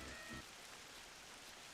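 Steady rain ambience in the game Final Fantasy XI, a dense even hiss of drops falling on surfaces, continuous and soft, with a faint low tone fading out at the start.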